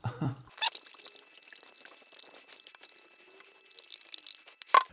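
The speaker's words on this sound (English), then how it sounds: "Give it a bit of a swirl so it doesn't all just fly straight up." Apple cider is swirled inside a fermenter, giving light sloshing and trickling liquid sounds with small drips, close and fairly quiet, framed by brief knocks at the start and end.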